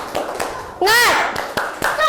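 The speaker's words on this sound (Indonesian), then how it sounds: "Sekali lagi tepuk semangat" A group of children in a classroom does the tepuk semangat spirit clap, with a few sharp rhythmic claps and a loud shouted chant in the middle, close and lively.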